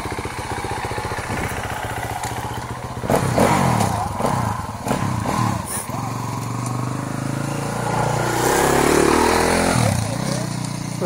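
Trail motorcycles on the Midhurst Trail Ride rumble and buzz past, engines droning continuously and swelling louder as more machines pass close by, with a voice talking over them.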